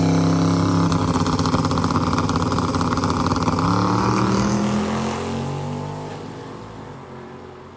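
Hot rod drag cars on small tires roaring down the strip in a race final, a loud sustained engine howl rising in pitch and then fading away into the distance.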